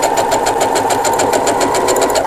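A sewing machine driven by a foot pedal runs fast and loud, stitching a seam with a rapid, even mechanical chatter that continues without a break.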